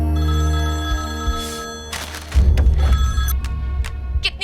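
A telephone bell rings in bursts, with strong bright tones over a low background hum and later a noisy scene underneath.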